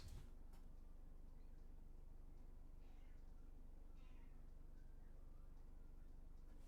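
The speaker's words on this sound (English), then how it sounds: "My cat is freaking out." A pet cat meows a few times, faint and somewhat distant, over a steady low hum with no talking.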